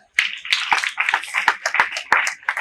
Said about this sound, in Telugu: గట్టి క్లాప్ కొట్టాలి